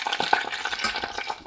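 Crackling, spitting sizzle of battered cheese frying in hot oil, close and busy for a brief moment with no talking.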